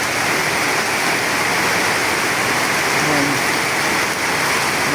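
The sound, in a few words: heavy rain on roof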